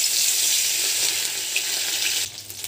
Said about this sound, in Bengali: সর্ষের তেল গরম হয়ে গেছে, মাছ ভেজে নেব।